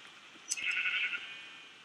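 A sheep in the Minecraft video game gives a single short bleat, a thin wavering cry lasting under a second over quiet background, with no one talking.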